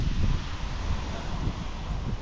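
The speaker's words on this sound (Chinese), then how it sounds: "这个风也是抽了，今天又是刮风又是下雨" Gusty wind blows outdoors on a rainy day by the Yangtze River in Jiangsu, buffeting the microphone with a steady, rough roar that swells and dips slightly throughout.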